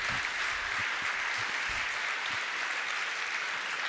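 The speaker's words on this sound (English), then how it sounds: "let's give a big round of applause" Audience applause at a Checkmk software conference award moment: a continuous, even wash of many hands clapping, sustained at steady loudness throughout with no talk over it.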